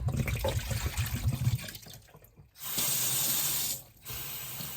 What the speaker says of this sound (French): Alors, voilà, je vais changer l'eau.